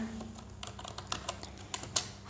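Typing on a computer keyboard at a desk, a run of light irregular key clicks with a few sharper taps, close and fairly quiet over a low steady hum.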